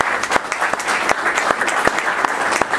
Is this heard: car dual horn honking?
no